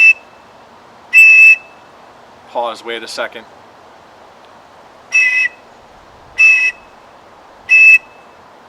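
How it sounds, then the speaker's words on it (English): Three short, sharp signal whistle blasts, clearly spaced apart and ringing out loud in an outdoor setting, with a brief spoken interjection between the first and second blast. "You want to make sure those 3 individual whistles stand out from each other"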